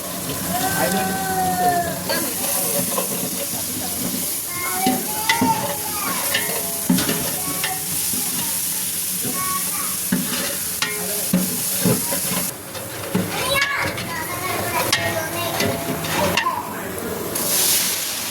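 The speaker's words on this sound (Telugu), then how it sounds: "అల్లం వెల్లుల్లి పేస్ట్ వేసుకోవాలి." Ginger garlic paste sizzling and crackling in hot oil while being stirred for bagara rice, with steady frying hiss and intermittent scraping of a spoon against the pan throughout.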